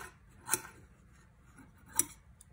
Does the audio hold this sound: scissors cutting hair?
yes